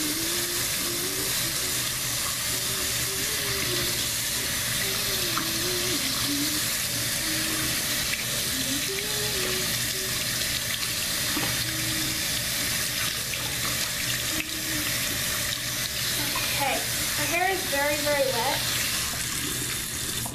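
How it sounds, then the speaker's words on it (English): Hot water runs steadily from a tap through the whole stretch while a voice talks over it, with brief clinks and brushing near the end. "Then turn on your hot water and just brush it as well."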